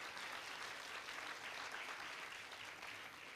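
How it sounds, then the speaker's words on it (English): A large audience gives a sustained round of applause for sponsors at a regional civic event, a faint, even wash of many hands clapping that holds steady before easing slightly. "Let's give our two signature sponsors a big round of applause."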